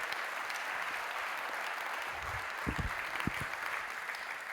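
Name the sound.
audience applause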